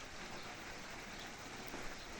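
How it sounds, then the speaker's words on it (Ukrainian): Sunny-day rain falls on roofs, leaves and garden paths beside a terrace, a soft steady hiss of pattering drops, faint and even, with no voices. "Послухаємо, як дощ стукає по кришах, по листячку, по доріжках."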